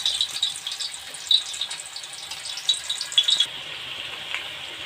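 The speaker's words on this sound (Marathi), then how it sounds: "आपण इथे आता तेल तापत ठेवलेलं आहे तेल तापलेलं आहे आपण आता ही चिप्स येई सोडायची याच्यामध्ये" Banana chips drop into hot oil, giving a close, bubbling sizzle with crackling pops that eases into a quieter, steadier hiss after a few seconds.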